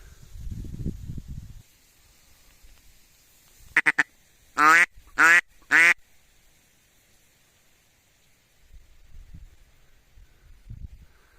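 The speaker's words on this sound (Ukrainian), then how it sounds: "Качки повно сидить." Three loud, harsh duck quacks in quick succession after a brief faint call at a marsh during a duck hunt, with low rustling and wind noise before and after.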